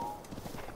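Horse hooves clip-clop briefly in Zelda: Breath of the Wild, a soft, quick rhythmic patter of game footfalls at moderate distance, heard alone for under a second.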